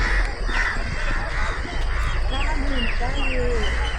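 Crows caw repeatedly while flying over a stadium on a misty morning in Wayanad, several harsh calls overlapping close by, with people talking throughout.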